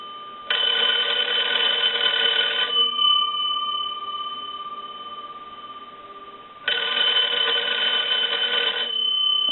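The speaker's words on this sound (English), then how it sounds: "This telephone has a very nice bell sound to it." Kellogg wood wall telephone, converted and repaired, with its bell rung by a line analyzer: two bursts of loud, bright electric ringing, each about two seconds long, separated by a quiet pause. No speech.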